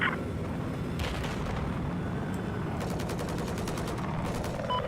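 Sustained gunfire in the video game Battlefield 4, with dense rapid bursts and booming blasts rolling on throughout, loud and close with no break.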